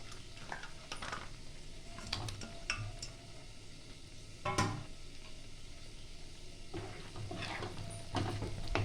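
Chicken pieces sizzling in fried-down masala in a pan, a low steady sizzle with occasional clinks and scrapes of a spatula stirring, close and fairly quiet.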